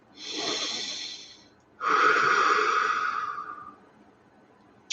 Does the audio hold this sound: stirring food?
no